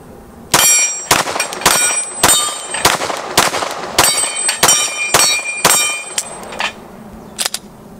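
A Glock 34 with a ported barrel fires Remington UMC 115 grain rounds at steel targets, about a dozen sharp, loud shots in an uneven rhythm, each followed by a ringing metallic clang from the plates.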